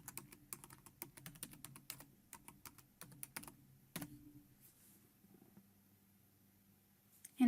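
Rapid bursts of key presses on a computer keyboard as a password is typed, irregular clicking clusters close and fairly quiet, trailing off into a near-silent pause with a faint hum.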